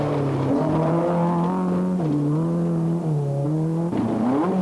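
A Toyota rally car with gearbox problems races in the 1984 Granite City Rally, its engine droning loud and steady with pitch shifts as the gears change, close and continuous.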